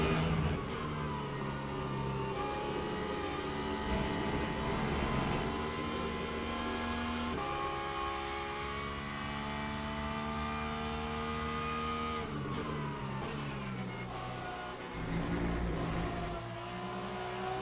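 Race car engines drone and rev continuously in Le Mans Ultimate during a race at Spa, pitch climbing through the gears and dropping at shifts, with other cars close by and no talking.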